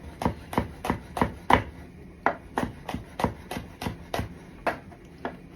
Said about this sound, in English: Please watch your finger when you cut now. Garlic, try not to do it like me.